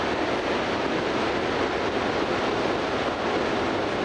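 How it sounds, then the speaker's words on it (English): Steady roar of ocean surf breaking at Loch Sport Surf Beach, continuous broadband wash with wind buffeting the microphone, loud and close with no pauses. "It's a nice waves today."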